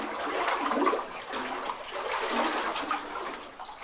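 Water rushing and splashing steadily through a flooded old mine passage, a continuous broadband wash with no talking.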